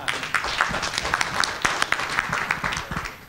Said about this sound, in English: I would like you to join me in clapping for them